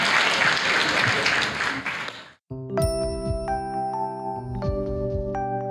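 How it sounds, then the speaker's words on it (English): A congregation at a healing service claps hands loudly for about two seconds, then the clapping cuts off abruptly and bright chiming, bell-like tones ring out in its place. "Clap, clap your hands for Thank Jesus."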